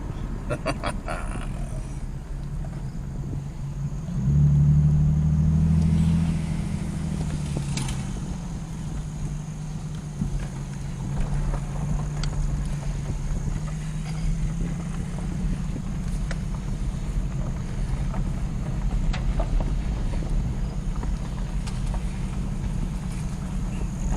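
An old vehicle rumbles along on the drive home, giving a steady low engine drone throughout, with a louder surge early on and faint voices in the cab.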